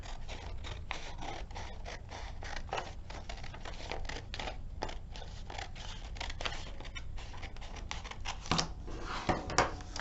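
Scissors cutting a sheet of origami paper, a run of crisp snips and papery scrapes close by, quick irregular cuts growing louder near the end, with no talking.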